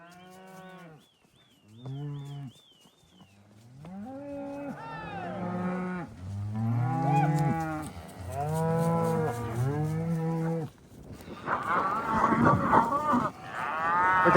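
Cattle moo repeatedly while being herded up a hill on a farm in fall. Several long, close, drawn-out bellows overlap before a burst of rustling wind-like noise near the end.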